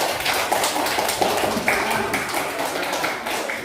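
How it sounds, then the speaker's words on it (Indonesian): Classroom students applaud a presenting group in a teaching practice session, a dense continuous patter of clapping filling the room at moderate loudness. "Sekali lagi tepuk tangan untuk kelompok 1 ya"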